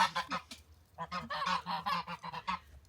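Geese honk repeatedly near their nests on a farm, a close, busy run of overlapping nasal calls in quick bursts with a brief pause midway.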